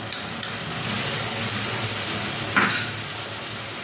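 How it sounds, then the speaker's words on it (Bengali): A spoon stirs a cabbage mash with yogurt and milk in a pan, a steady soft scraping with one brief sharper clink partway through, close and alone. "আবার এটা ভালো করে নাড়তে থাকবো এইভাবে"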